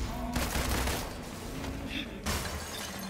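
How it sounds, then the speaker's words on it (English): Rapid gunfire from shooting adaptoids in the Marvel's Avengers video game, a dense continuous burst of shots with mechanical clatter that pauses briefly near the two-second mark before resuming. "Shooting adaptoids."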